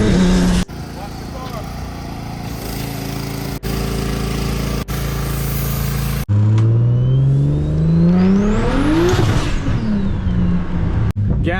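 The engine of a BMW E92 335i revs hard up close. Sustained loud engine noise gives way to a sweeping rise in pitch that climbs and then falls away, with a few abrupt cuts along the way.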